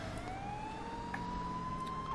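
A police car siren in GTA 5 with the LSPDFR mod, responding code 3, wails as one slowly rising tone over a steady background hum at moderate volume.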